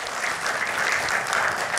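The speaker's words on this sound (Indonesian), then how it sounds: "Tepuk tangan untuk Gus Yakut." A studio audience at an Indonesian political talk show breaks into steady, dense applause, loud and close, with no voices over it for the short stretch.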